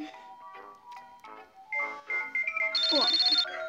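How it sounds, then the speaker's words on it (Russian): A telephone rings inside the Toca Boca video game, a bright electronic trill with a steady repeating pulse lasting about a second near the end, following a stretch of chirpy game sounds and music. "Телефон, это реально телефон был."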